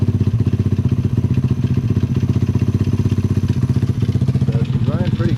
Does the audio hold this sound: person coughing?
no